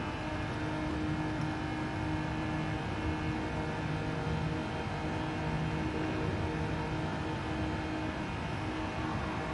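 A race car engine in Gran Turismo 7 holds a steady, high-revving whine through a continuous drone. The sound is level and unbroken, without any voices.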